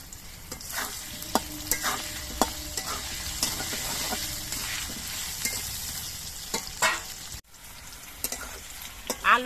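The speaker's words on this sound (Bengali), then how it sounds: "আলুগুলো আমি বেশ কিছুক্ষণ ভেজে নিয়েছি" Salted potatoes fry in hot oil in a kadai, a continuous sizzle broken by repeated scraping clicks as they are stirred. The sound is close and moderately loud, with no talking.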